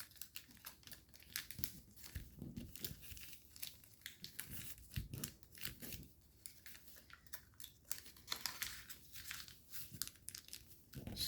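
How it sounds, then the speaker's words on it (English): Origami paper being folded and trap paper pulled out from underneath a paper jet model, soft crinkling and rustling close by, faint and irregular with no talk. "open it up, pull the trap paper out from underneath"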